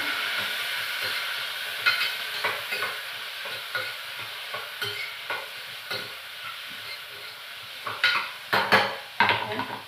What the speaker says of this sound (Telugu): ఉల్లిపాయలు, క్యారెట్ కూడా ఫ్రై చేసేస్తున్నాను.